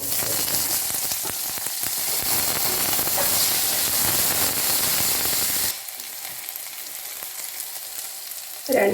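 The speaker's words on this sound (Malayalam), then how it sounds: "ഒരു ചെറിയ കഷ്ണം ഇഞ്ചി അരിഞ്ഞ ഇട്ട് രണ്ട് ചെറിയ സവോള അരിഞ്ഞത്" Chopped ginger and onions sizzling in a hot pan, a loud dense frying hiss with crackles for most of the clip that then drops to a quieter simmer.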